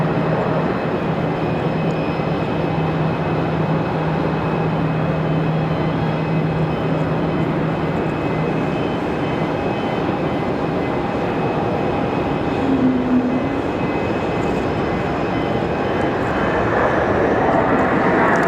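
A Republic Airways United Express jet at Raleigh Durham airport, a loud, steady engine roar with a broad rumble that holds evenly throughout, with faint tonal whines on top.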